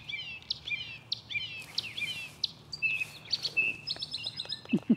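Small birds chirp and trill in quick bright phrases in a garden, fairly close, over a faint low background hum.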